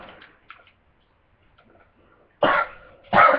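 A person gives two loud, close coughs in quick succession near the end, after a mostly quiet stretch with a few faint background sounds.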